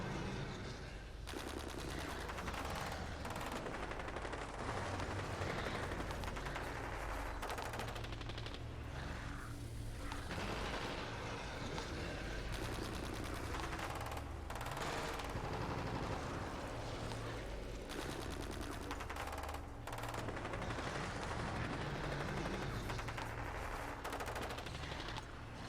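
Assault weapon fire in the video game Outriders Worldslayer: loud, dense automatic bursts that run almost unbroken, with rattling shots packed tightly together.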